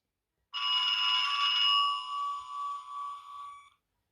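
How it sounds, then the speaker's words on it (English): An electric fire bell in a model train cab, the fire bell test on a Hornby Class 43 HST with sound, rings continuously for about three seconds, a bright metallic trill that cuts off abruptly, with silence around it. "function 22, which is the fire bell test."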